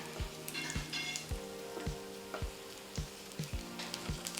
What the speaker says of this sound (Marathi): त्याच्यावर छान हा डिंख आपण तळून घेणार आहे